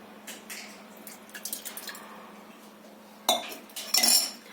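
Curd going into a steel lota with a steel churner, giving soft wet plops and light metallic clinks, quiet at first and then a sharper clatter of steel near the end.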